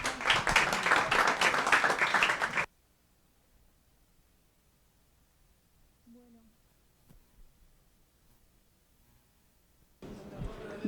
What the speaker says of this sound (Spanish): Un aplauso para Sebastián y para Clemencia